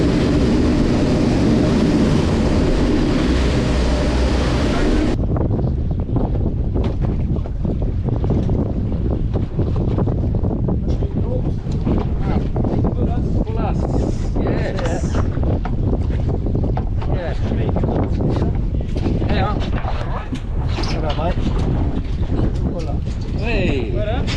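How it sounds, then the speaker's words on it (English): Strong wind buffets the microphone over choppy sea water while fishing from a boat, a rough, continuous roar that is loud and close throughout, with someone speaking beneath it. "Just a little bit windy and a bit choppy out here."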